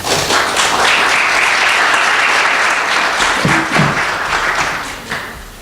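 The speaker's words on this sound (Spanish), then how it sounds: "te recibimos también con un aplauso" Audience applause welcoming a guest speaker at a cultural talk on tourism guiding, a dense, sustained clapping from a large crowd that holds steady for several seconds, then fades out with a few stray claps.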